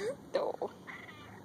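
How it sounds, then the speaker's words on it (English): A very large cat in a Kentucky store gives a short, close meow, followed by faint low murmuring in the background. "I've never seen a cat this size."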